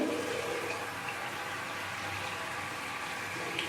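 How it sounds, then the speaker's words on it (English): Tap water runs steadily as it warms up for face washing, a continuous close rushing hiss that holds at an even level throughout with no voices. "You can switch on your water and let it get warm."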